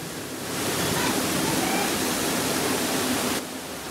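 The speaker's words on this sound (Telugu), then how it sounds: "మా బ్యాక్గ్రౌండ్ లో ఈ వాటర్ ఫాల్ అవుతుంది చూసారా." Water pours in thin streams from a pipeline into an artificial waterfall at a Bangalore taproom restaurant, making a constant close hiss and splash that swells after a moment and holds steady before easing slightly at the end.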